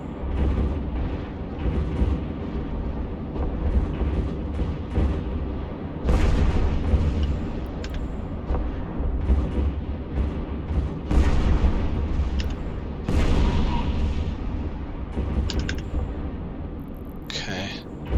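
Ship guns firing in a space battle in EvE Online, a run of deep booming blasts and bursts, some closely spaced volleys, repeated irregularly over a rumbling backdrop while someone talks over it.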